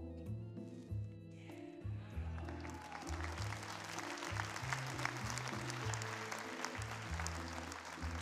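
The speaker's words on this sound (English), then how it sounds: "Let's give these two folks a nice round of applause as they go back to their seats." Theatre audience applauding steadily after a brief musical sting, the clapping building and sustained as a dense, fairly loud wash over background music throughout.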